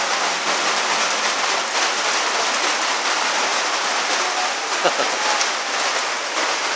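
Steady rain falling on surfaces at a barangay, a dense continuous hiss that stays even throughout with no clear voices.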